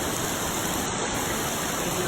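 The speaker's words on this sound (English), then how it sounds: "it is pouring now." Heavy rain pours down during a forest hike on Yakushima, making a dense, steady, close roar of hiss with no breaks and no voices.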